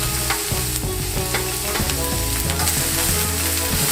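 Carrots and green onion stir-fry over medium heat in a pan, a loud continuous sizzle with stirring strokes, set against a steady tonal backdrop throughout.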